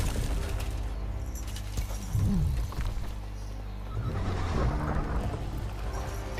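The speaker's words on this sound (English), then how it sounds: "Hostia, el caballo, tío." A horse in The Witcher 3 lets out a loud, close whinny of about two seconds, then snorts and shuffles softly over a steady background ambience.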